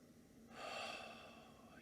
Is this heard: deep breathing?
yes